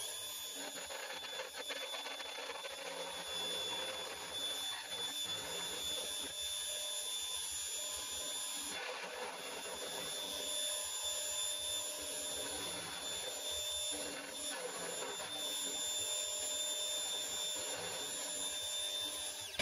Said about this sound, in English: This is that 16mm end mill I got from the second hand guy out in the country. I've put the weird grind on it. I'll give it a whirl